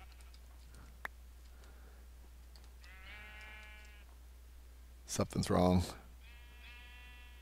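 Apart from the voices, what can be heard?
sheep bleating in the video game Minecraft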